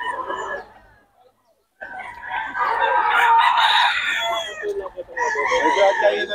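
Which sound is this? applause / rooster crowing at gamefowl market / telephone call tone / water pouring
rooster crowing at gamefowl market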